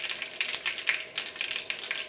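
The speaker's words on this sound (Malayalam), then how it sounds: "ഈ ചൂടായ വെളിച്ചെണ്ണയിലേക്ക് കടുകിട്ട് പൊട്ടിക്കുക." Mustard seeds crackle in hot coconut oil, a quick series of sharp pops and spits over a thin background hiss, close and moderately loud with no voices.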